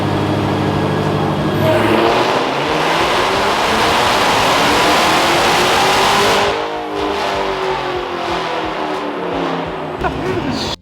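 A supercharged Dodge engine revs hard on a dyno in a tuning shop, a loud, close, sustained roar that climbs in pitch and then drops off sharply partway through before idling lower, with voices faintly under it.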